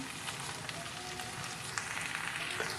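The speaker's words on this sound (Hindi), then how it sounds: "कीमे को मैंने अच्छे से भून लिया है। भिंडियाँ शामिल करते हैं" Chicken mince with okra sizzles in a pan for keema bhindi, a soft, steady crackling hiss like light rain, close by and faint, with a few small stirring sounds.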